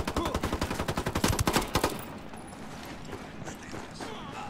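Rapid automatic gunfire from Ghost Recon: Wildlands shooting through a wall, a loud burst of evenly spaced shots for about two seconds before cutting off to quieter game ambience.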